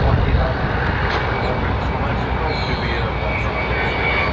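Private jet engine noise at Orlando Executive Airport, a steady, loud broadband roar that holds throughout, with tower radio chatter and voices faintly audible beneath it.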